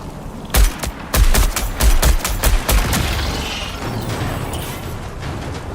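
A video game turret fires a rapid string of loud, sharp shots for about two and a half seconds, then the shooting stops and a lower rumbling noise carries on alone.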